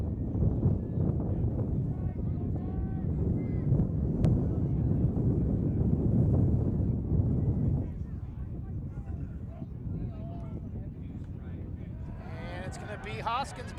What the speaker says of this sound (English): Here's another gust of that wind, those 35-mile-an-hour gusts.